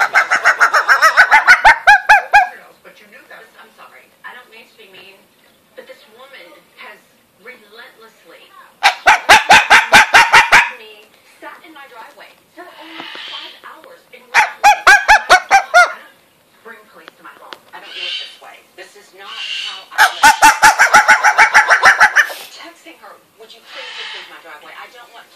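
An umbrella cockatoo imitates a dog, giving four loud bursts of raspy, honking barks spaced several seconds apart, with softer squawks and a person's voice in between.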